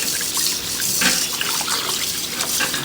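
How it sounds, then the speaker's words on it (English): Cold tap water runs steadily into a sink as raw rabbit meat is rinsed and scrubbed, a continuous close splashing rush with small drips and gurgles throughout. "A lot of rinsing, a lot of cold water"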